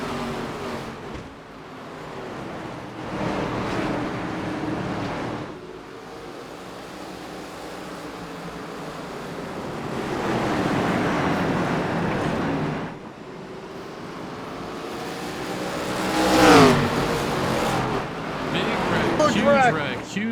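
Stock cars in an ARCA race at Irwindale accelerating together on a restart behind the departing pace car, engines swelling and fading in waves of roar with a sharp passing whine near the end, under a commentator's talk.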